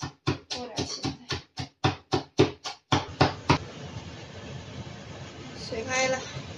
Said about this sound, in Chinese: 剁点咸菜。